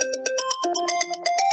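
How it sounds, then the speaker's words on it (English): A phone ringtone going off during an online lecture, a bright electronic melody of quick repeated tones in a steady pattern, clear and alone. "I will never escape from ringtones."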